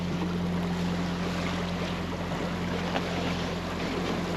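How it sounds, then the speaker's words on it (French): A sailboat motors under engine power on a windless evening off Toulon. A steady, continuous low engine drone runs throughout, mixed with a constant wash of water and wind noise. "On est au moteur."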